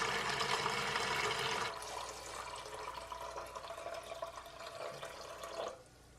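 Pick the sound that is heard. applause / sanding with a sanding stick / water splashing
water splashing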